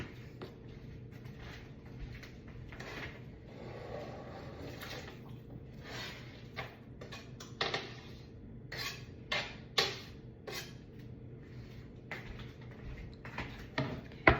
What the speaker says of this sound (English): Got the onions all diced up here. It's going in the pot.